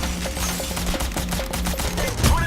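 Rapid bursts of automatic gunfire in Payday The Heist, shots fired through glass, come in a quick regular rhythm, loud and close, with a brief louder impact near the end.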